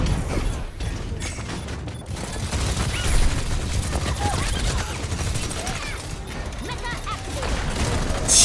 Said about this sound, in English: Who's shooting us?